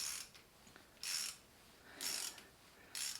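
A ratcheting tool recuts bolt threads on a BMW 1150GS, giving short bursts of quiet clicking every second or so, close up and soft, with no voices.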